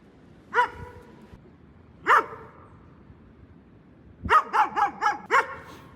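Dogs bark outdoors, two single barks spaced apart, then a quick burst of five sharp barks in a row, fairly close and loud against a quiet background.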